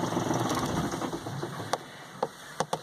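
A Yanmar 3HM35F 30 hp marine diesel engine rumbles steadily for about a second before shutting off, its drone fading into near quiet broken by a few sharp clicks.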